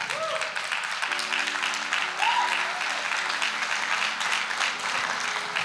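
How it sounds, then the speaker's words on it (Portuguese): A church congregation claps for Jesus during a Portuguese-language sermon, a steady wash of applause from the crowd with a few faint voices and tones mixed in, holding at an even level throughout. "você pode aplaudir Jesus?"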